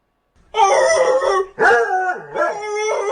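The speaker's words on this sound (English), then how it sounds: "Man and dog argue." A dog howls in long, loud, wavering tones, breaking off briefly and then rising again in pitch, with no speech heard.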